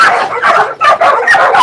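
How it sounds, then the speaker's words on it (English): Dogs on a South Korean dog meat farm bark and yelp loudly and close by in rapid overlapping bursts, with whimpering mixed in and no pause. "So this here is a dog that's often considered a meat dog in South Korea, this breed of dog."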